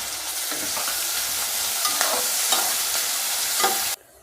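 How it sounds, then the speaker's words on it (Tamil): Onion, green chili, curry leaves and ginger garlic paste fry in hot oil for tomato rice, a loud, close, steady sizzle broken by rhythmic scrapes of a stirring spoon, cutting off abruptly at the end. "இந்த வெங்காயம் இஞ்சி பூண்டுலாம் வதங்கிடுச்சு."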